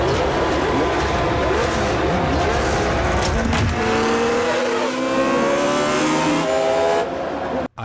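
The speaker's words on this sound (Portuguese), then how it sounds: "vemos a zebra amarela de Interlagos, vemos a Williams do Riccardo Patrese atrás" Formula 1 race cars at Interlagos in 1991, including a Williams, roar loudly and continuously with high rising engine whines, overlapping passes and a hint of tire squeal, before cutting off abruptly at the end.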